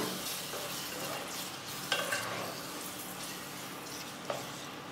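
Biryani masala with mint and curd cooks in a pan, giving a steady close sizzle broken by a couple of brief spoon clinks, with no one talking.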